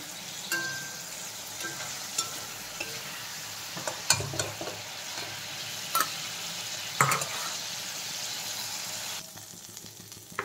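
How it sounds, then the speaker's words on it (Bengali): Potatoes being lightly fried in oil in a pan for a Bengali prawn, eggplant and potato curry, a steady sizzle with intermittent scrapes and clinks of stirring, close and moderately loud throughout. "এখন আমি আলুগুলো ভেজে নেব, হালকা একটু ভেজে নিচ্ছি আলু"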